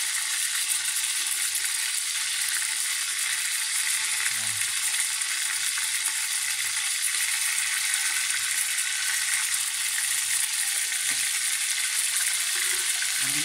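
Chicken thighs and drumsticks frying in a pan of oil give off a steady, dense sizzle with faint crackles, close and continuous throughout, with no talking.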